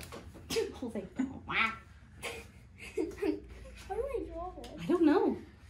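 Close, squawky quacks from a toy duck during a family board game at home, several bursts in quick succession mixed with children's and adults' chatter.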